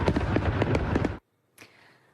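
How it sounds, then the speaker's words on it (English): Fourth of July fireworks burst in a dense run of sharp, crackling pops for about a second, then cut to silence before a single fainter bang with a fading tail. "that sound just says fireworks and 4th of July to me"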